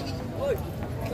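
A single short goat bleat at a livestock market in Padre Garcia, Batangas, brief and mid-distance, half buried under someone talking and general market murmur.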